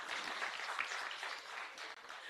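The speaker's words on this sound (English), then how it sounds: "you can clap hands" Crowd clapping hands outdoors at a transport minister's road infrastructure inspection in Mafikeng, a steady dense patter of applause held evenly throughout with no voices over it.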